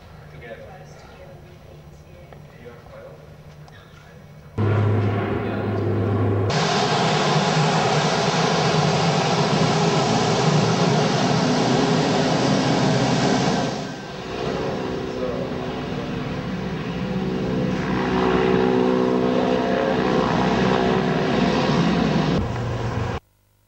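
Steady, loud propeller engine drone fills the cabin of a Flying Doctors aircraft in Australia, a broad roar with low throbbing tones that shifts slightly partway, after a quieter opening stretch.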